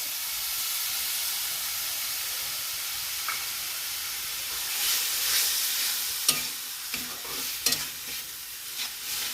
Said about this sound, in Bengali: এইবারে দিয়ে দেব আদা রসুনের পেস্ট।